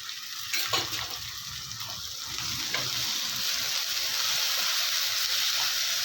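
Tomatoes sauté with ginger-garlic paste in a pan for a squid fry masala, a steady hiss of sizzling with a few stirring knocks early on, growing slightly fuller and more even.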